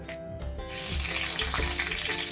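Bay leaf and cumin seeds dropped into hot oil in a kadai give a steady, close sizzle that swells after a brief quiet start and holds evenly to the end, with no talking.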